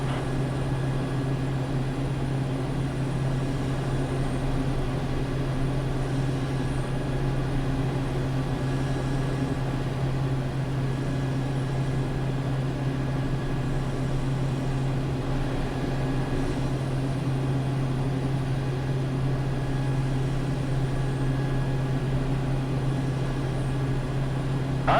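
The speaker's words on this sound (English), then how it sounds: "well that was a takeoff" A T-6A Texan II turboprop trainer takes off in a flight simulator, its engine a steady, loud drone with a strong low hum held unchanged throughout, no voices.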